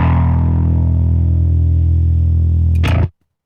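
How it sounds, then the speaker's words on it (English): A single held bass note runs through a Softube amp simulation, heavily compressed and noisy, with a thick steady drone and hiss that holds near three seconds before cutting off in a brief burst of noise. "So here's a little held out note here that is very noisy."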